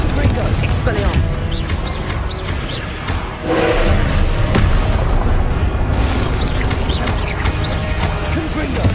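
Confringo blasting spells explode again and again in Hogwarts Legacy, loud booms and crashing bursts in a dense, continuous battle mix under shouting voices.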